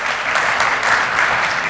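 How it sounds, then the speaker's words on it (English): Audience applause at an IT day event: loud, dense, sustained clapping from a large crowd, even and continuous without pauses. "Let's listen to a huge applause to yourselves."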